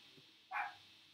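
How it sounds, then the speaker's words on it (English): A dog barks once, faint and muffled from another room, a short single yap in an otherwise quiet indoor space. "the dog is in the background, even though he's in the other room"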